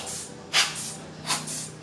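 Short blasts from a spray blower clear dust out of a detached camera body with its lens removed, two sharp breathy puffs amid a soft continuous hiss, close and fairly quiet.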